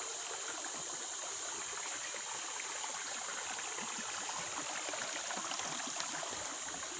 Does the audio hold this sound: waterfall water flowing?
yes